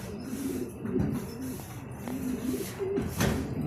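Club pigeons on a roof give low, repeated cooing calls, moderately close, over faint background noise.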